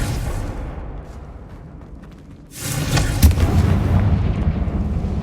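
A Confringo blasting spell in Hogwarts Legacy detonates with a loud, heavy boom that bursts in after a quieter stretch and rolls on as a sustained rumbling blast, with no voices over it.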